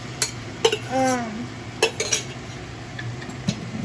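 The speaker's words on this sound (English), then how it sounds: "So I add my shrimp, and all that sauce goes in there as well." Shrimp and sauce go into a frying pan for garlic shrimp fried noodles: close metallic clinks and scrapes of utensil on pan come in scattered bursts, with a brief tonal ring and a faint sizzle underneath.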